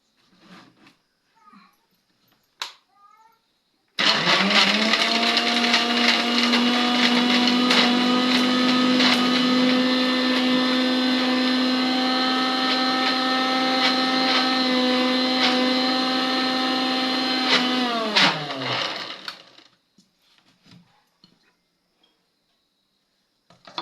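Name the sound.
mixer grinder grinding ingredients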